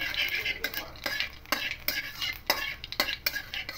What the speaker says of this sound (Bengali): দিয়ে একটু কালো জিরেটাকে একটু ভেজে নেব।